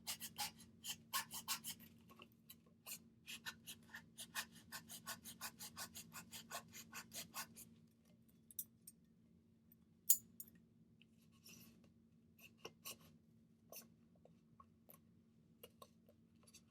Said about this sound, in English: Without cutting myself, I'm going to cut this rectangle out.